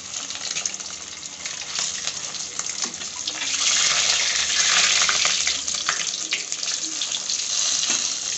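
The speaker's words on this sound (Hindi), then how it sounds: "देखिए हमारा ऑयल गर्म हो चुका है अब हम सारे अंडे को भूंजेंगे" Eggs frying in hot oil give a dense, close sizzle that swells louder midway and keeps hissing steadily, with faint scraping now and then.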